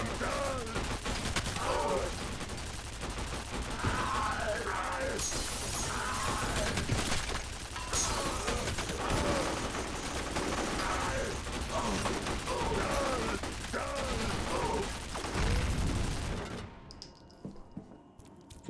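Rapid bursts of mounted turret fire rattle through a combat sequence in the shooter F.E.A.R. Perseus Mandate, dense and loud, with overlapping shots, metallic clatter and explosions before the firing cuts off near the end.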